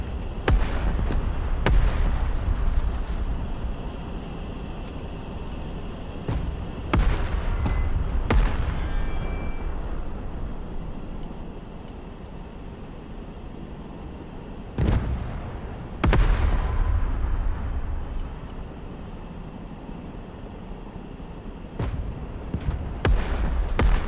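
Armor-piercing kinetic rounds fired at targets in a military training game, heard as repeated loud, sharp booming shots with rumbling tails, spaced irregularly over sustained background noise.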